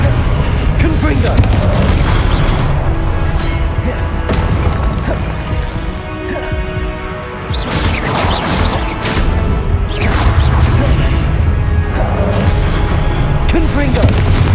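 Repeated Confringo blast spells boom and crash through a Hogwarts Legacy boss battle, a dense barrage of explosive hits layered over game music and effects, with a voice calling out spells throughout.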